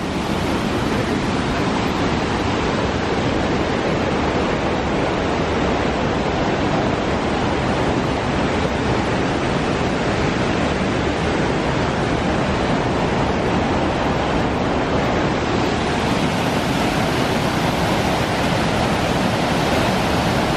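A river at Ojos del Caburgua rushes beneath a wooden footbridge, a loud, constant broadband roar of flowing water with no voices.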